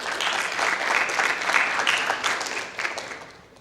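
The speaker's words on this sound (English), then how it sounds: "give your parents a round of applause for that" An audience at an athletic signing day claps steadily, a dense, loud round of applause from a crowd indoors that holds for several seconds and then tapers off.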